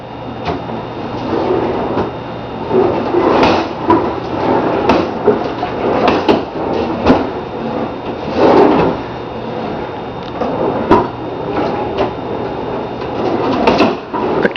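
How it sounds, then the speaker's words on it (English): Repeated wooden sliding and knocking of kitchen drawers being pulled open and pushed shut, irregular and close by, with a steady background hum. "The drawers are opening all by themselves."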